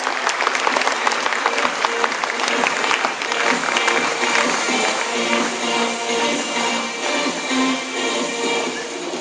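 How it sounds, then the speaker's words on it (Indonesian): An audience claps in steady, dense applause for a group of diamonds returning at a Jeunesse business event, a loud, continuous wash of hands lasting throughout with faint voices mixed in. "Let's give them a big round of applause"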